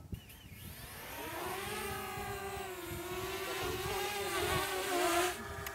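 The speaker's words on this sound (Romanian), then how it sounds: "Și tu mâna ta ce ai? O dronă." A small camera drone lifting off beside a forest, its rotors rising into a steady whining buzz with wavering pitch that swells and holds close and loud for several seconds, no talk.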